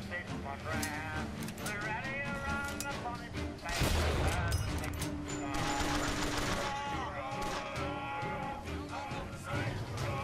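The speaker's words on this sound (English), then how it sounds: "The guy was just shooting me." Enemy gunfire in the first-person shooter Bioshock Infinite, dense bursts of shots and a sharp cluster of blasts near the middle, mixed into busy game sounds with voices talking throughout.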